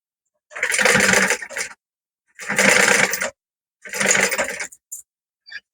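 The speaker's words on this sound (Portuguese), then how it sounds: "E dá retrocesso no início. E vem costurando." A sewing machine stitches the front-to-front layers of a patchwork pocket bag, running in three steady bursts of about a second each with short pauses between, plus a couple of faint ticks at the end.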